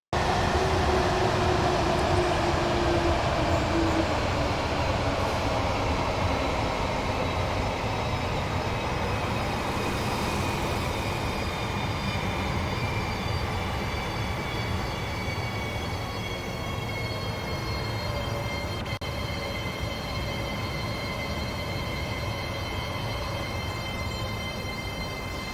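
A train slowing down in the game Train Sim World 4 on the East Coast Main Line. A loud, steady rumble of wheels on rails runs throughout, with sustained squealing tones gliding downward as the train brakes, and no voices.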